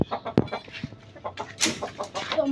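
A rooster clucks in short, irregular bursts nearby, with a few sharper calls mixed in among quieter rustling.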